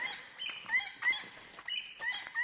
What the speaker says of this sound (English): It sounds like a seagull that's stuck in fishing line or something.